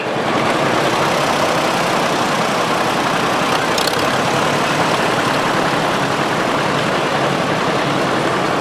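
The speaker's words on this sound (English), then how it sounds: "This next John Deere is a 1958 620, also owned by Larry Nord and is driven by Luke Bush." A 1958 John Deere 620 tractor runs steadily in a county fair parade, its engine a loud, continuous broadband rumble throughout with no voices.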